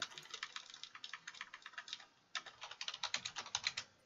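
Fingers tap out rapid bursts on a computer keyboard, crisp close clicks in two quick runs split by a short pause, quiet and alone.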